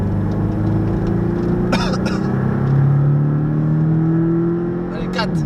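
A Porsche 718 Cayman engine drones on a race circuit, its pitch rising and falling steadily through shifts, heard from inside the car under a driving instructor's coaching.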